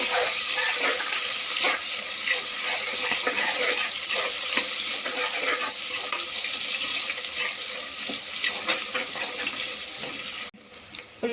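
Chopped onions and green chilies fry in a pan after whole garam masala, for tomato rice, with a continuous close hiss of oil and regular stirring scrapes, no talk, ending in a brief dip.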